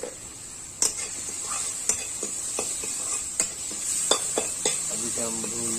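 Turmeric, chilli and tomato fry in a pan for a Chhattisgarh-style idhar curry, a close, continuous sizzle broken by repeated sharp scrapes and taps of a spoon stirring against the metal.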